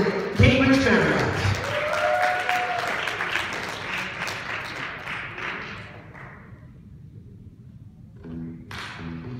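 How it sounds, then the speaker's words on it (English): Wedding reception guests at a Boston Cambridge Marriott applaud loudly in a dense wash of clapping and cheering over music, fading after about six seconds before a brief burst of voices returns near the end. "Give yourself one more big round of applause for coming out to the Boston Cambridge family."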